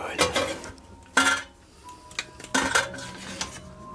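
A metal pot is handled in a witch's house, giving sharp clanks and clinks in three distinct bursts with ringing metallic tails and quiet pauses between them.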